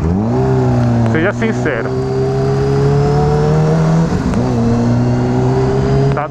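A Honda CBR600RR motorcycle engine revs loudly and close, its buzzing tone rising and dipping through a couple of throttle blips, while someone speaks briefly over it.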